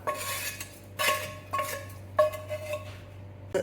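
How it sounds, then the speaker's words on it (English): A utensil scrapes browned fond from a pan into a Dutch oven of oil for short rib ragu, with several short scraping and clinking strokes at an uneven rhythm, close and fairly quiet. "making sure to scrape off all the fond from the pan."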